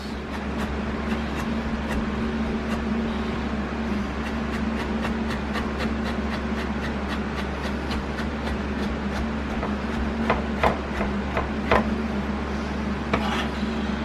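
A chef slices vegetables on a bias on a cutting board, a fast even series of crisp knife taps over a steady low background hum, with a few sharper chops near the end.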